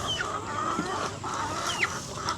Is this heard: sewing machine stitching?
no